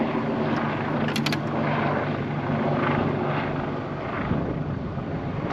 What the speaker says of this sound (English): Why is there a private helicopter flying over my house?